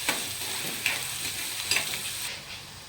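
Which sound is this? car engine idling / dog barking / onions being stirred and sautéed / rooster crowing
onions being stirred and sautéed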